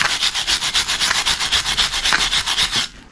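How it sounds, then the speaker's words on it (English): Scraping brake dust and corrosion off a front brake caliper carrier on a 2008 Smart Fortwo 451, heard as a fast steady rhythm of about twenty close, loud rasping strokes that stop abruptly at the end. "I'll be scraping off any brake dust and muck, getting those really bright."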